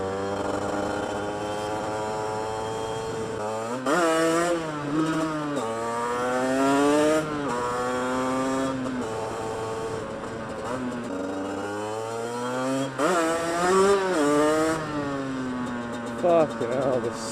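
Aprilia MX125 motorcycle on a slippery road during wheelie practice, its engine revving up and down in repeated loud, rising and falling surges, with a rider talking over it.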